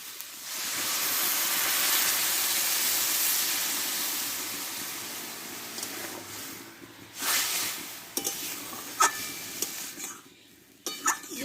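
Hilsa fish heads with a little water cooking in a pan for a dried cabbage dish, giving a steady broad sizzling hiss that fades, then sharper stirring scrapes and clatters of a utensil against the pan toward the end.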